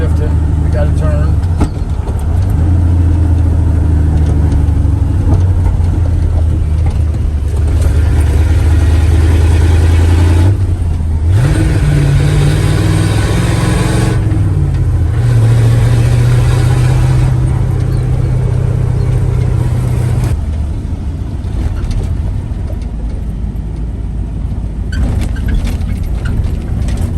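A 1989 dump truck's engine drones loud and close while driving, its pitch stepping down and back up through gear changes, with cab rattle and road noise throughout.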